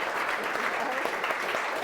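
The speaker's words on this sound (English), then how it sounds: "that we get a round of applause for the board of directors" Audience applause for a board of directors, a steady dense patter of many hands clapping at once, even and sustained throughout without pause.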